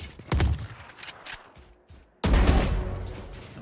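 Gunfire in the Valorant shooter game, a quick burst of shots, a pause, then a loud sustained volley.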